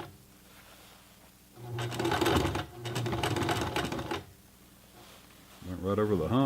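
Sears Kenmore 12781 sewing machine stitching a seam through denim and leather: two loud bursts of rapid needle clatter, each a couple of seconds long, then a brief hum with a faint voice at the end.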